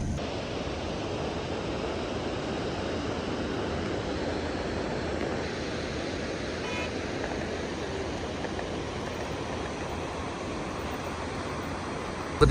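Fast-flowing river water rushes in a steady, loud roar that continues unbroken, with no voices standing out above it.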